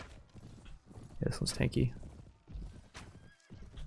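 Horse neighing and clip-clopping hooves in the Mount & Blade game Prophesy of Pendor, a short whinny burst amid galloping in a fight, with someone talking over much of it.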